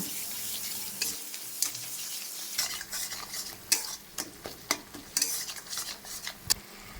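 Chital fish paste being mixed by hand in a bowl with ginger and garlic paste for muithya: soft, wet squishing and stirring strokes with sharper clicks against the bowl, close and steady, no talking.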